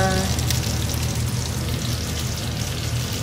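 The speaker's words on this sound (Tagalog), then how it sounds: "Yung ating pong galunggong na perito." Steady, loud sizzling of galunggong (round scad) frying in hot oil, a dense crackling hiss that continues throughout without pause.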